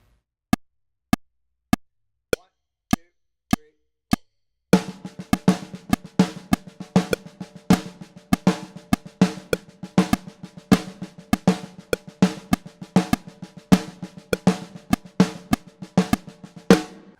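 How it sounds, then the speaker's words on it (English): Several sparse metronome clicks lead into a steady, fast stream of crisp snare drum sixteenth notes, with accents falling every fifth note, played close and loud without any talking. "We just want to play straight 16th notes on the snare drum,"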